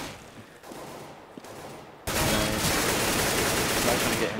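Gunfire in Counter-Strike on the de_dust2 map during a competitive match: quieter game noise and a few taps, then a sudden loud, sustained barrage of shots, with a commentator talking over it.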